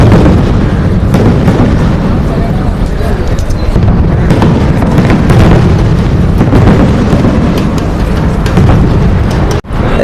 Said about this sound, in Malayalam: വെടിക്കെട്ട് തുടങ്ങിയിട്ടുണ്ട്.